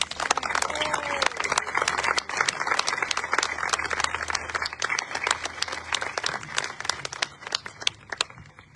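Audience applause at a community band concert, dense steady clapping that runs throughout the stretch at moderate level, with faint crowd noise underneath and no clear speech.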